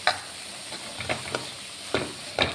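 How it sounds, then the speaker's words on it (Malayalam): A spoon stirs a cabbage stir-fry with grated coconut in a pan, giving a handful of brief scraping clicks over a steady soft sizzle, close by with no talk. "കാബേജ് വെന്തപ്പോൾ നമുക്ക് തേങ്ങ ഇട്ടിട്ട് മിക്സ് ചെയ്യാം"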